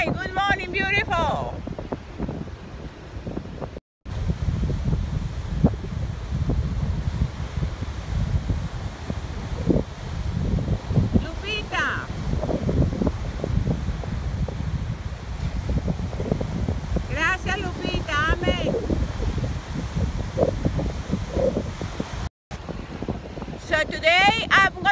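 Wind buffets the microphone in a constant low roar, with brief faint sounds breaking through and two short dropouts.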